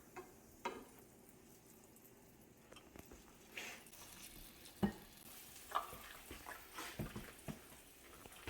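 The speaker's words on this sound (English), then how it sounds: "we're just going to put them in here and sear them" Flour-dusted pork chops sear in a pan with a quiet, steady sizzle, broken by a few louder clunks and pops as the meat is set down and moved.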